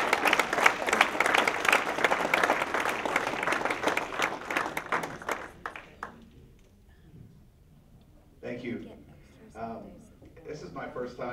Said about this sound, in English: Let's give him a nice round of applause together.